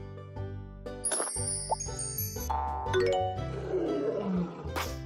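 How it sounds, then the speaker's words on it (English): A lion roars over bright chiming, tinkling music, the growl swelling in the middle of a playful jingle. "Lion."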